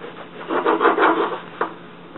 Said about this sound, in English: We're just going to take a bread knife and trim the crust right off.